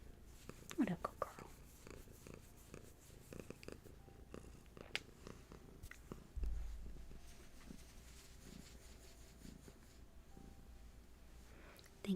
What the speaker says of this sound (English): Hattie couldn't wait to purr into the microphone.